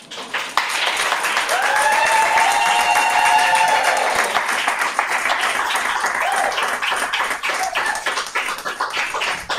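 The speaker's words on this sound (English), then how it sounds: "Please, please, please, more applause for Mahtem." An audience at a book launch applauds after a poetry reading, with dense, sustained clapping that gradually thins toward the end, accompanied by a few scattered cheers.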